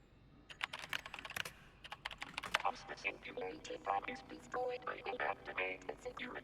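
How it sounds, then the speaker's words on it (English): Rapid keyboard typing from the video game Event[0], a dense run of close, irregular key clicks throughout, with some speech mixed in. "Try just typing,"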